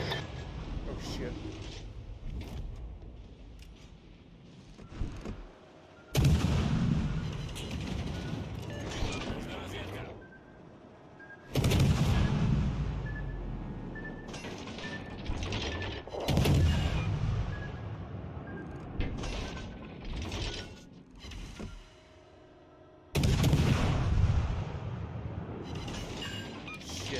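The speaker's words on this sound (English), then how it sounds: "Shells coming at me right now." Battleship main guns firing in World of Warships Legends, several heavy booming salvos spaced several seconds apart, each with a long rumbling tail over continuous engine and water ambience, with someone talking throughout.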